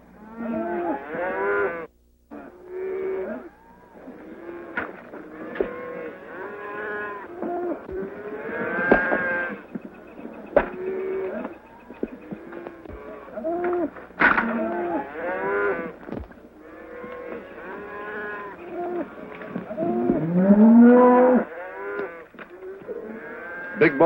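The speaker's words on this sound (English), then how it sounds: "Here comes the cattle." A herd of cattle moos repeatedly on an open range in a 1935 Western, many overlapping lowing calls near and far, some long and drawn out, with no talk over them.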